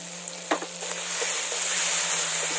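A spice paste of turmeric, chilli and cumin powder with a splash of water fries and is stirred in a pan: a couple of spoon clicks, then a bright, steady sizzle that grows louder, close up with no talking.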